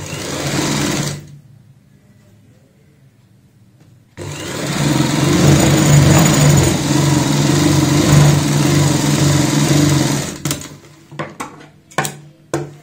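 Sewing machine stitching a side seam on a girl's sleeveless frock: a short burst, a pause of near quiet, then a long loud steady run of stitching about six seconds, followed by scattered clicks and fabric handling; no talk.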